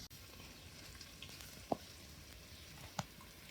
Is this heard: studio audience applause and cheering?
no